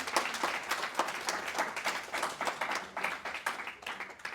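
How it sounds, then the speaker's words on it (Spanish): Sustained applause from a church congregation, steady dense clapping of many hands rising and falling in waves, moderately faint, with no talk over it. "Sí, un aplauso al Señor."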